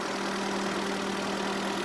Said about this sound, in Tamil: அதனால தாங்க நாங்கள் இன்ஜின் படத்தை நாங்கள் லைவாகவே காட்டுறோம்